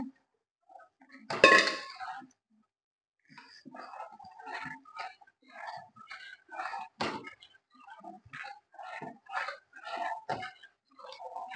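Rice flour batter for vadiyalu is stirred in a metal pot, starting with one loud clank and then moving into a series of close scraping and clinking strokes in an uneven rhythm.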